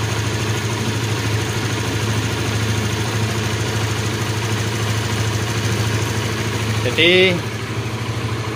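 A motorcycle engine idles steadily after a cold start, a loud, even low rumble throughout, with a brief spoken word near the end.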